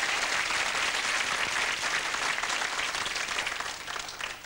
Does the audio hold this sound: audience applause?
yes